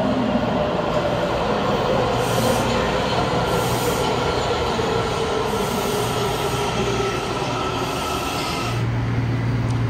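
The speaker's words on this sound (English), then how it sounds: "The lights blink when a train is coming." A metro train rumbles loudly into a Washington DC station, wheels squealing in drawn-out high tones over a constant heavy roar, no voices.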